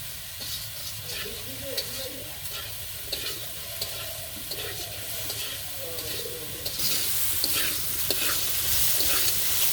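Spices being stirred into katla fish curry with potato and tomato, a steady scraping stir over a soft sizzle and hiss that grows brighter and louder toward the end, with faint voices in the background.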